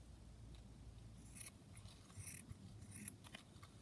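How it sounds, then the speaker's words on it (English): Scissors cut through fabric while an envelope is made, giving a few faint, close snips over a low background hum. "I'm just going to cut that down here"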